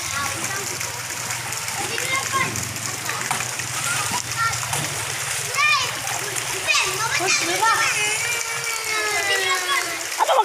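Children splash and bathe in rainwater nearby, with steady sloshing and splattering while kids' voices and adult talk carry on over the water throughout.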